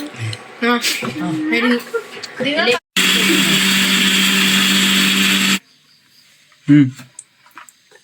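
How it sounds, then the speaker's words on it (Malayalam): A mixer grinder blends sautéed onion, tomato, dried chillies, pepper and garlic for peri peri masala in one loud, steady motor whir lasting under three seconds. People talk before and after it. "ഉള്ളി, തക്കാളി, വറ്റൽമുളക്, കുരുമുളക്, വെളുത്തുള്ളി ഇതെല്ലാം ഇട്ട് ഒന്നിങ്ങനെ വഴറ്റിയിട്ട് നമ്മൾ മിക്സിയിട്ട് അടിച്ചെടുക്കും"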